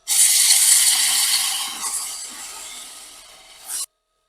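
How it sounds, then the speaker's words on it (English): Wood being sanded through progressively finer grits: a steady, close abrasive rasp that runs for almost four seconds, gradually easing off, with a brief louder scrub just before it cuts out. "We're just going to work our way through the grits once more."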